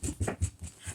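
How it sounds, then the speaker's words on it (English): Excited pet dog panting in quick rhythmic bursts with soft whimpers, close by and loud relative to the quiet room, no voices. "That's my dog."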